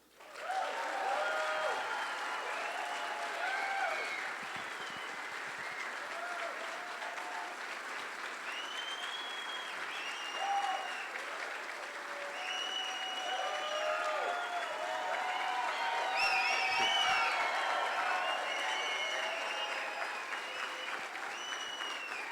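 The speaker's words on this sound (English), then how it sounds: "give a round of applause for the 3 guys in here" A large audience applauds continuously, a dense wash of clapping with scattered whistles and cheers that swells slightly toward the end.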